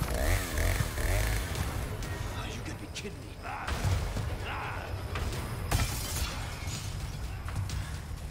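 Chainsaw in the Resident Evil 4 Remake video game, a rough buzzing engine drone mixed with thuds, crashes and game effects, with voices heard over it.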